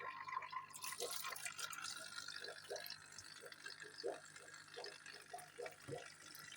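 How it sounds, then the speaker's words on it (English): A sponge filter lifted out of a planted goldfish aquarium drips back into the water, giving a quiet, steady series of small splashes and trickles over faint background hiss. "we'll just gently lift out our sponge filter."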